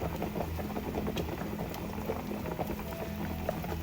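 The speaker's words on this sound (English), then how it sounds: "once we bring this to a boil now" Pork belly simmers in a pot of broth with whole peppercorns, producing a steady rolling boil of bubbling and popping, close and continuous, with a low hum underneath.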